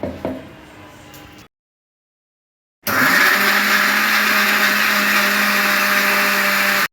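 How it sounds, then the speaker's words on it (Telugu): A brief clatter, a pause of silence, then a loud mixer grinder whirs steadily at full speed blending tomato and onion, a high motor drone continuing to the end. "మిక్సీ జార్లోకి వేసుకోవాలి"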